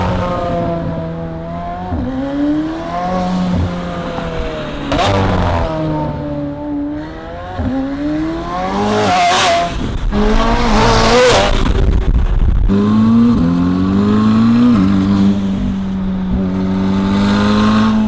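McLaren Senna with a stage 2 titanium exhaust revving repeatedly, loud close blips that climb and fall, with sharp rising bursts and a sustained high rev near the end.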